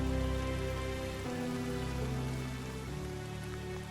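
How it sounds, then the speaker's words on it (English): Rain falls steadily over the Burren limestone landscape in Ireland, a continuous close hiss with a low sustained musical drone underneath and no voices. "all of that moisture ends up getting dumped as rain and sleet"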